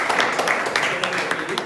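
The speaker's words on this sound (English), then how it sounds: "A big round of applause for Toastmaster." Applause at a Toastmasters club meeting, a room of people clapping in a quick, uneven patter, moderately close, with some voices mixed in.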